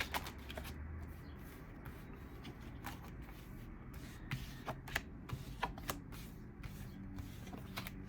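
Tarot cards are laid out on a table one by one, producing soft, close taps and slides with sharper card clicks at irregular intervals over a quiet background, with no talking.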